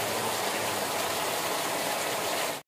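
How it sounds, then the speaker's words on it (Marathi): Heavy night-time rain pours steadily outside, a dense, even hiss of falling water with no other sound, ending abruptly. "बाहेर बघा मस्त मुसळधार असा पाऊस पडतो बघा."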